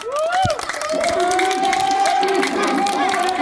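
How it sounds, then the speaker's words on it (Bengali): A crowd of spectators, including school students, claps and cheers at a village duck-catching contest, a steady, loud burst of applause and shouting with voices mixed in throughout. "একটা তালি দেন তালি দেন"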